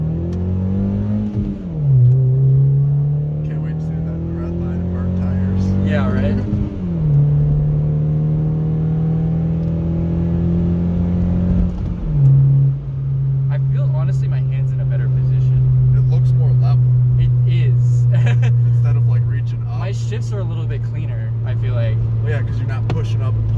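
Mazda2 fitted with Fiesta ST Recaro seats accelerating through several gear shifts on a test drive, engine note rising and dropping from inside the cabin, with people talking over it.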